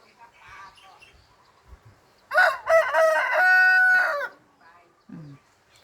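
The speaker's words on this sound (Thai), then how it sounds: "สียงไก่ร้อง" Rooster crowing nearby, one loud, full cock-a-doodle-doo lasting about two seconds, set against quiet background sounds and a brief low noise afterward.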